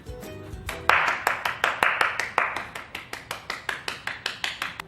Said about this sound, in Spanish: Te paras y aplaudes.